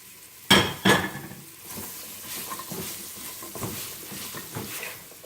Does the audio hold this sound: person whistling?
no